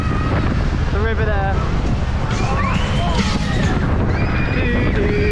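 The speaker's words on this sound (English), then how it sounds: "Cold wind coming off the river" Cold wind coming off the river at Braehead fun fair in Glasgow buffets the microphone in a constant loud rush. Faint rides, whistles and shrieks and a few voices come through underneath.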